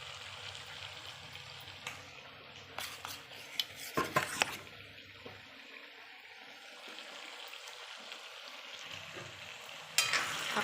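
Ginger, garlic and chili paste stirred into pork frying in its own rendered oil, a steady sizzle with scattered spoon scrapes and clinks against the pan, busiest in the middle and again near the end.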